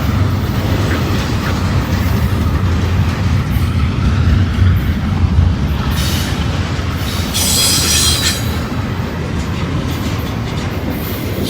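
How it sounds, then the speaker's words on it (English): A freight train rolls steadily past close by with continuous wheel and car rumble, a brief horn salute sounding partway through. "A little horn salute there."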